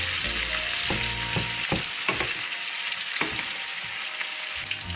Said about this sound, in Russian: И обжариваем лук.